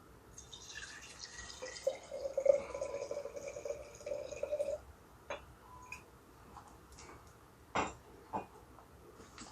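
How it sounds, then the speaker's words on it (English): Liquid poured into a cup at a table, a soft steady trickle for several seconds, then a few scattered drips and light taps, with quiet room hiss throughout. "I'm gonna go ahead and pour me up a little bit of my cup right here"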